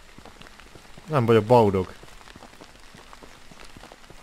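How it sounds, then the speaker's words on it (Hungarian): Steady rain patters in the survival game Withstand as a soft, continuous hiss behind a man's short spoken phrase. "Esik az eső, ez hangulatos."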